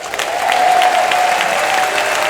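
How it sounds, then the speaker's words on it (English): Steady crowd applause fills an induction ceremony hall, sustained clapping from a sizeable audience at fairly close range for the whole stretch, with a faint tonal hum running underneath. "And can we give another round of applause to the iconic Shirley Murdoch?"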